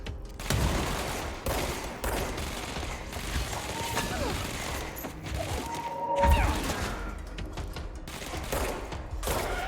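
Gunfire in the video game Control, rapid bursts of shots and impacts crackling through a busy mix of game effects, with a voice talking over it at times.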